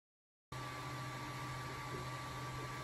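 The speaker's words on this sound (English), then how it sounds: "This is the method feeder being printed on my 3D printer." A 3D printer printing a method feeder for fishing with a large raft base gives a steady, even mechanical hum with a faint high whine, continuous and close after a half-second of silence.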